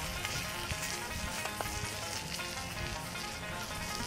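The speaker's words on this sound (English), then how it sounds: "Nice sizzle going on." Constant crackling sizzle of turkey cooking in a trashcan smoker, close and continuous with tiny pops, no talking.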